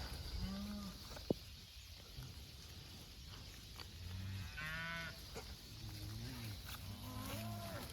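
Cattle moo repeatedly on a farm pasture, several low calls from different animals at moderate distance over steady outdoor background noise, with no talking.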